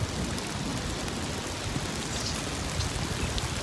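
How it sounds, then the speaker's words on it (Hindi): Heavy rain pours down steadily in a dense, hissing wash that stays constant throughout, with no voices. "बारिश आ गई है, बारिश जोर कर रही है"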